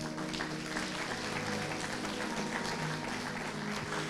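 A church congregation applauds Jesus, a continuous mass of clapping under a sustained musical or organ-like tone, even and moderate throughout.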